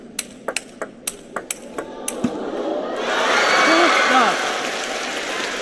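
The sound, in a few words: crowd cheering at table tennis match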